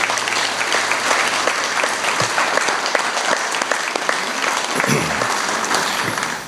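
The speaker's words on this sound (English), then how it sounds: "I think we should give a round of applause to this Board of Education who governed it." A school ribbon-cutting audience claps continuously, a dense, loud wash of hand claps sustained throughout without pause.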